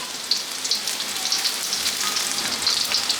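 Ginger garlic paste and cardamom frying in oil for Sri Lankan crab curry, a close, continuous crackling sizzle with fine spattering pops throughout.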